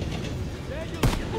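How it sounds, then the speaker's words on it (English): A single heavy cannon boom in a World War II video game erupts about a second in, a short deep blast over background rumble and talk. "Are they shooting cannons at us?"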